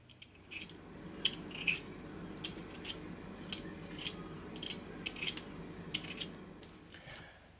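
A peeler scrapes across raw potatoes being readied for roasting. The strokes come as a quick series of short, close, quiet rasps over a low background hum.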